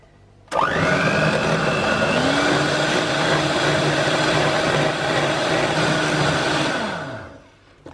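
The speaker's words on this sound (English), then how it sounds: "So we're going to whisk it until we've got beautiful whipped cream" An electric mixer whisks heavy cream with sugar-free sweetener into low-carb whipped cream, switching on sharply, then a loud steady whir whose pitch drifts as the cream thickens, before winding down and stopping near the end.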